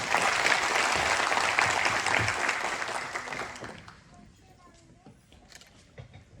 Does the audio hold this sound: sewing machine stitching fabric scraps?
no